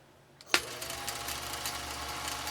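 A Husqvarna sewing machine starts with a sharp click and then runs at a steady, even mechanical whir, close and moderately loud.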